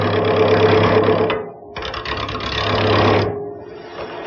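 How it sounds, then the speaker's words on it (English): Wood lathe spinning a square-to-round post for a Regency headboard as a skew chisel makes the first cut, a steady loud mechanical whir with a low hum, briefly dropping off mid-clip before cutting in again. "I'm going to use this skew chisel to make that first cut"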